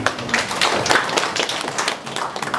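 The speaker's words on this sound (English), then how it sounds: "Let's clap for that." A group clapping together in a meeting about a cook stove carbon project in Kisii County, with dense overlapping hand claps sustained at steady loudness and no talk over them.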